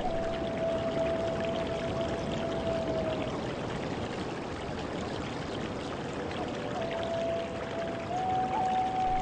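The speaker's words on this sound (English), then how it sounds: "The scenic waterfall plunges 74 meters down on the Ewaso Narok River." Nyahururu waterfall in Kenya drops 74 meters into the Ewaso Narok River, a steady, unbroken roar of falling water with a faint thin tone running over it at times.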